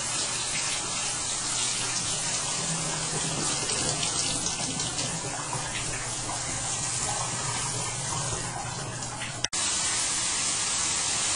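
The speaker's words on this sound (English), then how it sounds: "we have flow there, shower works, drains are working, and we're not backing up." A shower runs in a house under inspection in Allen, Texas, its water hissing steadily and draining for several seconds, close and continuous, with a brief knock near the end.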